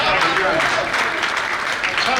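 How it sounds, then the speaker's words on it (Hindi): Audience at a Hindi comic poetry gathering claps in a steady, dense wave of applause that holds throughout. "आप सभी ने ताली बजाई, बहुत अच्छी बात है।"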